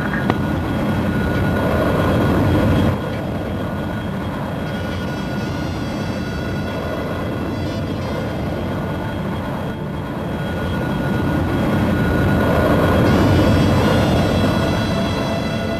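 A Saab AJ37 Viggen fighter jet engine, in a flight simulator setting, roars loudly and continuously with a broad rushing drone that swells and eases slightly over the span.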